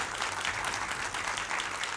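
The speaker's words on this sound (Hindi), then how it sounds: "सुधांशु जी का तालियों के साथ स्वागत हो रहा है।" Dense audience applause welcoming a guest in a television debate studio, continuous and steady throughout with no break.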